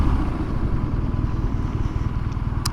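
A 2022 BMW R nineT Urban GS motorcycle on the move, its engine a steady, loud, rumbling drone with wind roar throughout, close up, and a faint click near the end.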